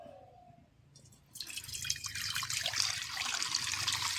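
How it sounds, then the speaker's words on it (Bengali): Thickened boiled milk pours into a kadai as a continuous splashing trickle that starts after a short quiet moment and keeps flowing steadily at close range. "এবার আমি এই কড়াইয়ে সবটা দুধ ঢেলে দেব"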